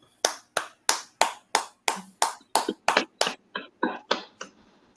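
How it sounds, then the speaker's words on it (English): Crisp, evenly spaced claps ring out in a brotherhood class, about thirteen sharp beats in a steady rhythm, close and clear with a faint room tail, the last few slightly softer. "All right, clap it up."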